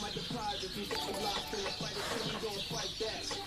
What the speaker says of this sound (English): The birds are going nuts again.